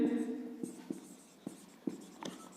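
Chalk or marker writing on a classroom board during a lesson on acids and bases, heard as a few distinct scratchy strokes with faint room tone and no talk.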